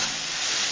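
Garlic hits a hot pan with mustard paste for a Bengali fish curry, making a brief, loud, even sizzle.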